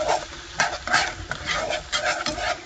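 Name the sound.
stirring flour and water gravy to remove lumps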